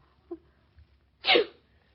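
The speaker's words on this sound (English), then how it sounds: "Claudia, you sneezed again." A woman gives one loud, abrupt sneeze in an old-time radio drama, preceded by a faint short intake of breath, close and alone against a quiet background.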